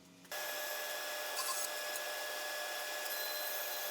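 A table saw on a sled jig set to a 36-degree angle starts up with a short low thump, then runs as a steady high whine, cutting wood strips for a guitar build. A few brief brighter bursts come through as the blade bites.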